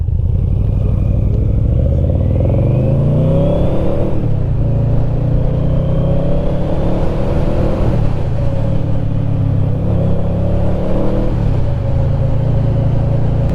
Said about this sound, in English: This V4 is really nice to ride